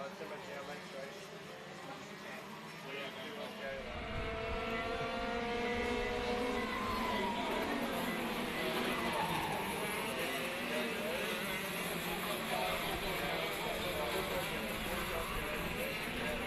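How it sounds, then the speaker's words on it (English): A pack of racing karts at a Western Australian kart championship buzzes steadily around the track at a distance, the high engine whine swelling after a few seconds and holding as a continuous drone. "So 15 karts on track fighting it out."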